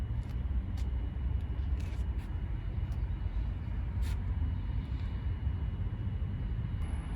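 Steady low engine rumble from a BMW E38 740d with its 240-horsepower 3.9-liter diesel V8, a continuous idle-like drone holding even throughout, with no talk over it.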